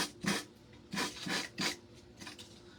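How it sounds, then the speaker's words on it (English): Paper edges of a handmade card being sanded to remove excess paper, four or five short scratchy rasping strokes in an uneven rhythm, close and fairly loud, with quiet gaps between them. "I'm just gonna sand it down to take off all of that excess paper."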